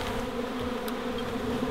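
Steady, close hum of a wild honey bee swarm, a dense continuous drone with no voices.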